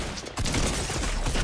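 Rapid gunfire bursts in Fortnite crackle loud and dense after a brief quieter moment, forming a continuous volley of overlapping shots.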